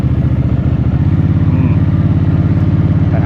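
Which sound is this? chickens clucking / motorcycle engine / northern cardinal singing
motorcycle engine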